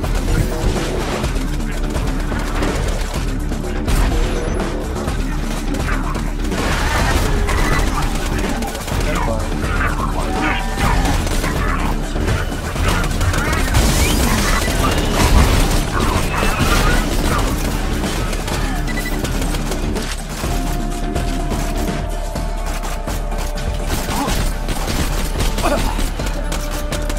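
Dense, continuous gunfire and booming impacts fill a Borderlands 2 firefight, loud and unbroken for the whole stretch, with mechanical clatter and crashes layered underneath.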